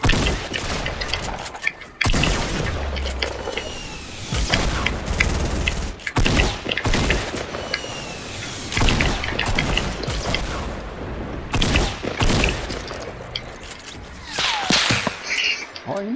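Rapid bursts of gunfire and blasts from a Fortnite duos match, loud and dense throughout with sharp cracks and booms stacked over one another, briefly broken by short gaps.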